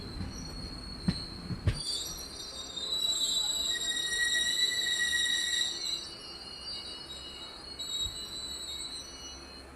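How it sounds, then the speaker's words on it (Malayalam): A train pulling away from Parappanangadi railway station, a two-platform stop, heard as a couple of clunks followed by sustained high-pitched wheel squeal that gradually fades. "ട്രെയിൻ അങ്ങനെ പെട്ടെന്ന് തന്നെ പരപ്പനങ്ങാടി റെയിൽവേ സ്റ്റേഷനിൽ നിന്ന് വീണ്ടും ഇപ്പോൾ യാത്ര ആരംഭിച്ചിരിക്കുകയാണ്."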